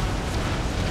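Cannon fire striking a French ship in a naval battle in Empire: Total War, a dense, continuous booming roar of explosions with heavy low rumble, loud and unbroken for a moment.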